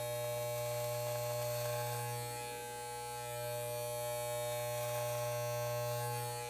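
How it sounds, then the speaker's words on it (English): Plug-in electric beard clippers trim along a sideburn, giving a steady close mains-powered buzz with a strong low hum that holds evenly throughout, dipping only slightly midway. "I've got my plug-in bigger clippers here"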